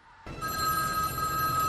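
A telephone in The Matrix starts ringing after a short quiet moment, a loud, bright electronic trill that rings on steadily to the end.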